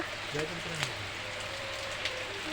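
Steady heavy rain pours down in a constant hiss, with people talking quietly beneath it.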